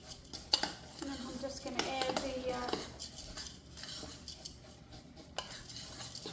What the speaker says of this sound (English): Just making sure I'm mixing everything, especially all that baking soda, baking powder, and all that.